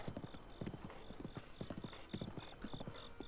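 A horse galloping in the video game Zelda: Breath of the Wild, steady rhythmic hoofbeats in quick triplet clusters, moderately loud, with a repeating high tone running alongside and no talk.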